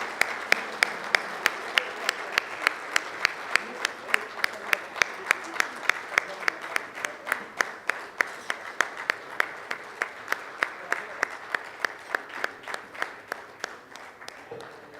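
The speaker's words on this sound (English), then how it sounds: "please welcome each of our dignitaries with a thunderous loud round of applause" Sharp, rhythmic unison clapping from a conference audience as dignitaries are welcomed to the dais, a steady beat of roughly three claps per second repeating for the whole stretch over a softer bed of scattered applause.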